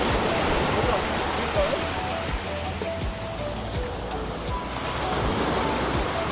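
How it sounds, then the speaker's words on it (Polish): Surf washes continuously onto Railay Beach in Krabi, Thailand, a broad steady roar of waves close by, with faint boat engine hum in the background. "I już jesteśmy na Railay Beach. Przepiękna plaża."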